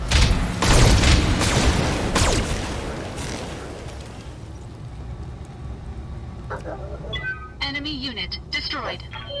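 Weapons fire from a BattleTech mech game: a burst of heavy booming shots and impacts at the start fades into rumbling, then brief electronic interface tones, with someone talking over it.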